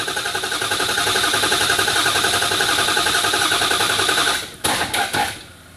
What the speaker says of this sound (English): You can hear it in the engine as it starts to build up pressure.